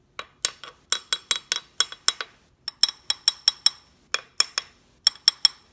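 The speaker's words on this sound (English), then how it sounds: "This is an aluminum horn. I'm hitting it with a metal spoon." A metal spoon taps an aluminum FaitalPro horn in quick bursts of bright, ringing clinks, about twenty strikes in uneven clusters with short pauses between, each hit close and sharp with a brief metallic decay.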